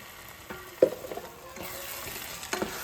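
A spatula stirs masala for a cauliflower and chickpea biryani in a pan, giving close, uneven scraping strokes and a sharp knock over a continuous sizzle, with no talking.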